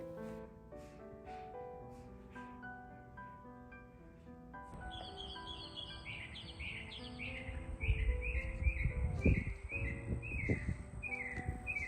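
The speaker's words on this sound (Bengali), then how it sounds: "কিন্তু কানে আসে এখন পাখির ডাক" Birds call in a garden on a quiet morning in the USA, with repeated whistled chirps at a moderate distance over a soft background that grows a little busier midway.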